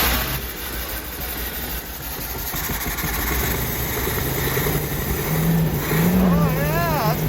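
Rough-running engine of a 1972 Winnebago Brave motorhome idling loudly and steadily, gradually evening out, with a person talking over it partway through.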